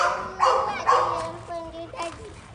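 Several dogs bark in a short burst of loud, close woofs and yips, with children's voices chattering around them.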